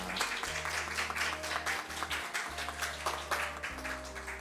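A Korean church congregation applauds at Sunday worship: soft, steady clapping from many people, fairly distant, over sustained low instrument notes that shift pitch every second or so.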